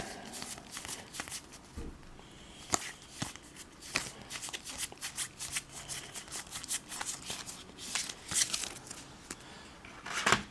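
Action cards from the Final Girl board game are handled up close, giving soft repeated riffles, flicks and slides of card stock in quick irregular bursts, quiet and without talk.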